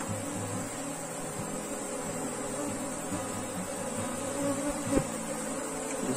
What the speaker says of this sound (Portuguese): A abelha rainha está aqui no marcador.